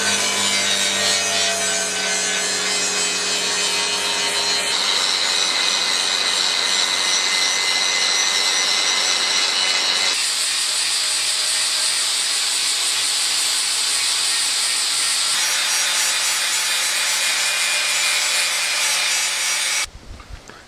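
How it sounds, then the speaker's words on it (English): Freehand sharpening of a knife edge for a rough, brutal-looking Silent Hill-style blade: steady, continuous rasping and hissing strokes, close and loud, running unbroken for about twenty seconds with no talk. "I'm just going to sharpen it freehand"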